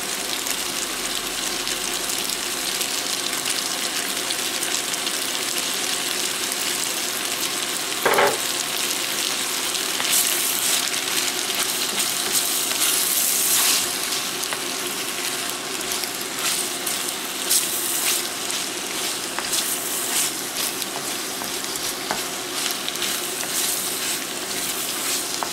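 Shrimp scampi with garlic and parsley simmers in a pan, giving a steady, close sizzle and bubbling that runs unbroken throughout, with no voices.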